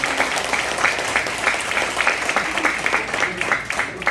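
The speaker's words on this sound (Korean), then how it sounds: "신재철 부의장님한테 굉장히 박수 한번 드려봅시다." A party members' gathering in Suwon breaks into sustained applause, a dense, loud wash of many hands clapping steadily throughout with faint crowd noise underneath.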